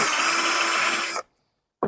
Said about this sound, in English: You're going to drill a hole right at the base right here